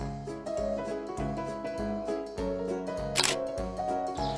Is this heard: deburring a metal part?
no